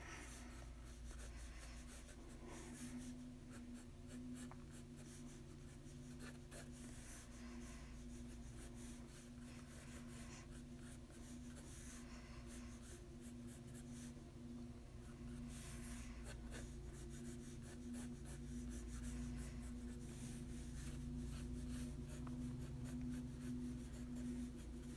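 A pencil rubs and scratches across paper in quick, uneven strokes while sketching E.T., soft and close above a steady background hum.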